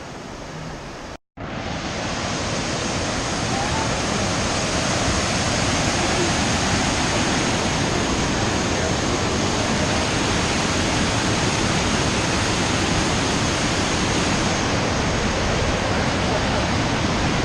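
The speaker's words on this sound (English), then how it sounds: "this whole stream is just covered in snow, and it looks like, you know, it's just running underneath the snow" Mountain stream running beneath snow below Muir Pass, a loud, steady broadband rush of water close by that fills the whole clip after a brief cut near the start.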